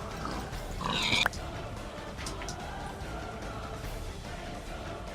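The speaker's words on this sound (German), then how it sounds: "Da hat es extrem viel Schweinlis." Pigs grunting in the Minecraft video game, a short burst of game noise near the start over a steady low background hum.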